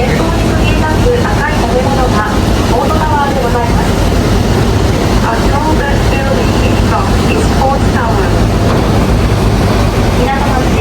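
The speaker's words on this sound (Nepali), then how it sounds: "यो पानीको ऱ्यापिड चाहिँ बहुत चर्को" Loud river rapids in Kobe, Japan: a dense, steady roar of rushing water fills the whole stretch without letup, with people talking over it.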